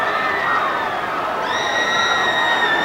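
Loud, steady cheering and shouting from a large crowd in the stands at a 2005 high school football state championship game between Bluefield and Weir, with whoops rising midway and continuing without pause.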